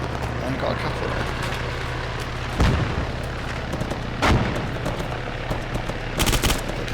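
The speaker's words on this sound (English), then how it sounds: "Now I can hear shooting up at the bunker." Video game gunfire in ARMA 3 at a bunker: a few distant bursts of shots ring out over a steady game hum, with no nearby talk.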